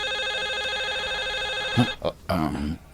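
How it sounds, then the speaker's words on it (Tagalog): An electronic telephone ringtone in an Ilocano radio drama plays a loud, warbling pulsed tone for about two seconds, then cuts off as a voice speaks. "Telepono"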